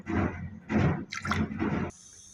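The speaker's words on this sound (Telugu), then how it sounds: "ఒక అర గ్లాసు వాటర్ వేసుకోవాలి." Half a glass of water goes into minced mutton keema in a pan, making a few close, splashy bursts of liquid in quick succession before settling.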